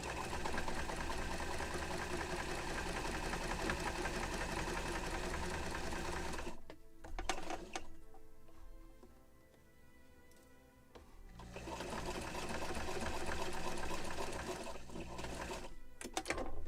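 A sewing machine stitches a seam in a model ship sail for the 1776 gunboat Philadelphia, running steadily and loudly, then pausing for a few seconds of quiet near the middle before it starts up again and runs to the end.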